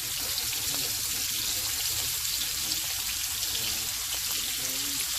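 Steak searing in a hot pan gives off a loud, steady, close sizzle with constant crackling hiss throughout and no talking.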